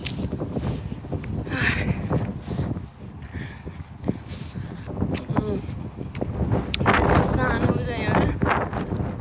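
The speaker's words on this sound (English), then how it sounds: "The wind's blowing towards me." Wind buffets the microphone outdoors in freezing, icy conditions, making a loud, continuous rumbling roar that swells in gusts throughout.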